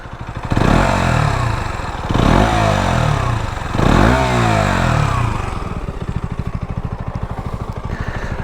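KTM 125 Duke single-cylinder motorcycle with its standard exhaust back box, loud and close, revving in three rising bursts before settling into a steady, lumpy idle.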